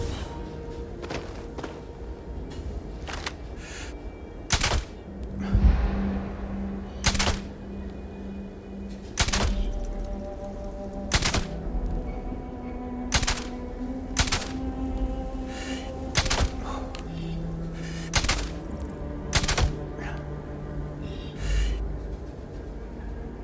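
Gunfire in the Starfield video game, sharp single shots spaced irregularly over ambient tones and hum, no talking.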